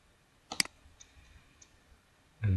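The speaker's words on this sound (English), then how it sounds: "and then we'll just keep clicking next" Computer mouse clicking through dialog steps in Ecotect software, a sharp double click near the start, faint ticks in between, then another click at the end, close and quiet.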